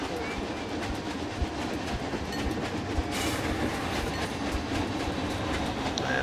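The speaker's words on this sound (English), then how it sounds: "here comes, that's the same train that just left the station" Train ride in the park-building video game Planet Coaster 2, a steady rolling rumble with faint clickety-clack from the rail cars running continuously, a brighter hiss swelling midway.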